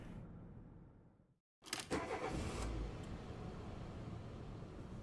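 A taxi car in Vampire: The Masquerade starts up after a brief silence, then drives on with a steady, moderately loud engine rumble and road noise, no voices.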